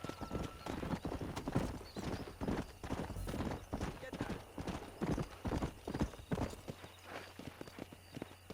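A horse gallops in Red Dead Redemption with a rapid, even run of clip-clopping hoofbeats, close and steady throughout, while a voice talks over the hooves.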